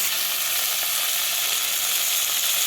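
Okra frying in a pan with onions browned to golden gives a steady, bright sizzle that holds evenly close up, with no voices over it.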